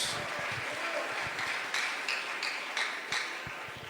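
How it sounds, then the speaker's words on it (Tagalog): A church congregation claps together for God, a dense patter of many hands at moderate distance with a few sharper individual claps standing out, steady and fairly quiet throughout. "Malakas sa palakpak para sa ating dakilang Diyos"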